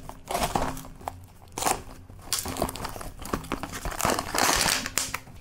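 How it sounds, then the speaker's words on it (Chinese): Plastic packaging crinkles and crackles loudly and close up as a parcel of guitar-shaped whistle candy is unwrapped, with continuous rustling, bursts of tearing and crunching, and no talking. "今天我们继续来拆包裹"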